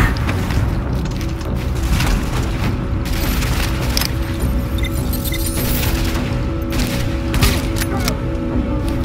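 Explosions and gunfire in the video game Tom Clancy's The Division after a tank is destroyed, a dense rumbling wash of blasts and crackling shots that stays loud and steady throughout.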